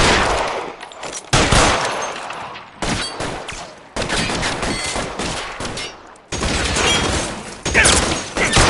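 Loud bursts of rapid automatic gunfire in a video game, coming in several clustered volleys broken by short silent gaps, harsh and close, with no talk.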